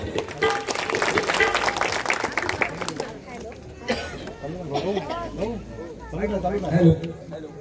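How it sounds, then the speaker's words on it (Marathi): Loud audience applause and cheering at a fugdi dance performance during a Navratri festival in Redi, Konkan, dense at first, then thinning under an announcer's amplified voice, with a renewed burst near the end. "तसा टाळ्यांचा आवाज आलेला जोरदार टाळ्या होते"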